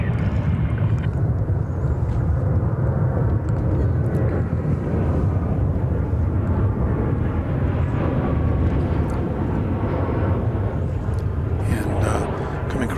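Airplane at DFW Airport crossing the Bravo Bridge, a broad, steady jet roar that fills the scene continuously and stays loud from start to finish.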